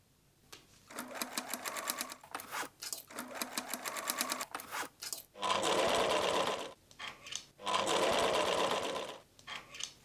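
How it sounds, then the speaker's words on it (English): Serger running in bursts while finishing the seam allowances on the side, top and bottom edges of a travel bag sewn from an old shirt, steady close mechanical hum with short pauses and louder stretches, no talk. "Sew remaining side, top, and bottom edges, serge allowances."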